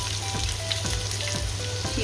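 Onion, carrot and capsicum fry in a hot pan for kanda poha, giving a steady close sizzle with faint scraping stir sounds and no talking.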